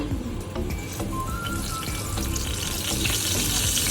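Steady crackling sizzle of spices frying in hot oil, dense and continuous with scattered pops throughout.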